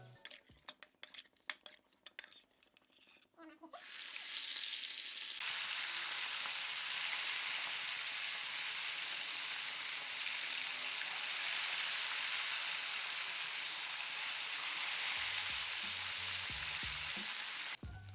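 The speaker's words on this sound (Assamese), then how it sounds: "মাছকেইটা আমি ভালকৈ ভাজিব লাগিব" Loud, continuous sizzling of fish frying in hot oil, a dense hiss that lasts many seconds after a few clinks of utensils, with no talking.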